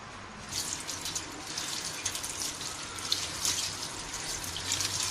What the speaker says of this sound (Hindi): अब हम इसे धो लेंगे।